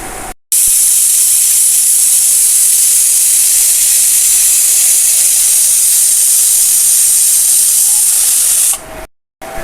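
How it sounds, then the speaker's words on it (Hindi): An Indian pressure cooker vents steam in a loud, steady, piercing hiss that holds for about eight seconds, with sharp cuts at the start and end. "ये शोर सा मचाता है इंडियन कुकर, सीटी बड़ी तीखी मारता है।"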